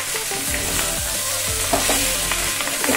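Red Malabar spinach greens with green chili fry in a pan, a continuous close sizzle broken by several scraping stirs, loud and with no speech.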